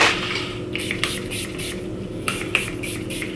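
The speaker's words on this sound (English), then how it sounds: "I'm just wetting the top of my head with some Awe Spirling spray" A spray bottle of hair spray mists onto curly hair in a series of short, quick bursts, close and crisp, with brief pauses between squirts.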